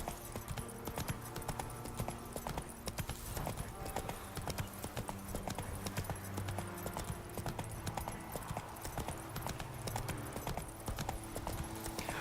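Roach, Geralt's horse in The Witcher 3, trots along in a continuous, even clip-clop of hooves, a dense repeating beat over game ambience with faint voices mixed in.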